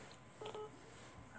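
Brief telephone dialing tones sound as a few quick beeps, faint against a hissy background with no talking.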